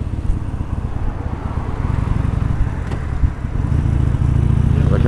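A Harley motorcycle riding along Sunset Boulevard in Los Angeles gives a steady low engine rumble mixed with road and traffic noise and wind, holding fairly loud and close throughout without any speech.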